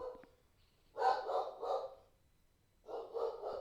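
Dogs bark in two quick bursts of about three barks each, separated by a short pause, fairly close and clear against a quiet background.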